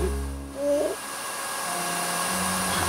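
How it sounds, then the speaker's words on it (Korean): A hair dryer in a dark bathroom during a power outage, switching on by itself. After a low tonal hum, a steady airy whir fills the rest of the clip at moderate loudness. "깜깜한 화장실 안에서 드라이기가 혼자 작동을 하는 거예요"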